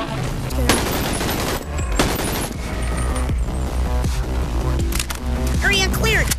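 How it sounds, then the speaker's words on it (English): AK rifle gunfire in the VR video game BONELAB rattles out in dense, loud repeated bursts of shots, with other game sounds mixed in. "Dude, this AK feels hella slow."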